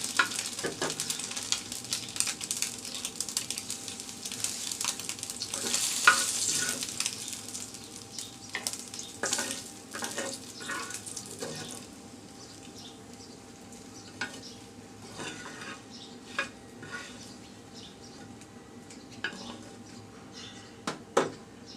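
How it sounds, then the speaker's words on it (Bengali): Dried chillies fried with a pinch of salt in a pan for eggplant bharta, a soft steady sizzle with scattered scraping stir clicks, louder in the first seconds and quieter later, no voices. "আমি অল্প পরিমাণে লবণ নিয়ে শুকনো মরিচগুলো একটু কষলিয়ে নিচ্ছি"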